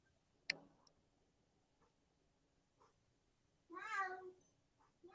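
A single short electronic cat meow sounds from an Alexa smart speaker in a quiet room, preceded by a sharp click and a few faint ticks.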